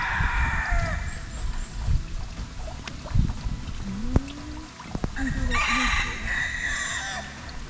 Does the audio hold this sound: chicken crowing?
yes